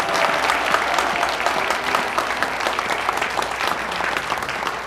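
Dense, sustained applause from a large outdoor crowd at a Gwanghwamun Square rally in Seoul, a steady roar of clapping holding at full strength throughout with no pauses.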